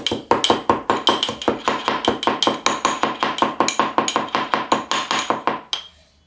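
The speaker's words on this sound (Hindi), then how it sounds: "देखिए दोस्तों, हम इलायची कूट लेते हैं।" Cardamom is pounded in a mortar, and more than twenty sharp metallic strikes land in a fast, even rhythm, close and loud, ringing slightly before they stop abruptly near the end.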